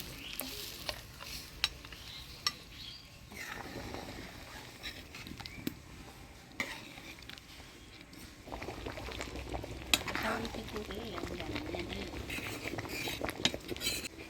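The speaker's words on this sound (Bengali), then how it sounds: "ভাজে রাখা মাছের মুড়া দিয়ে দিলাম এবার কিছুক্ষণ ফুটাই" Kalai dal with fried fish head simmering in a village kitchen pot, a low steady bubbling and sizzling hiss with occasional utensil clinks, close and fairly quiet.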